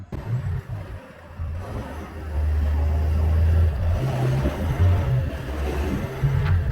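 Ford Mondeo on the road, its engine droning low and steady with a swell in power partway through, mixed with tyre and road noise inside the cabin and no talking.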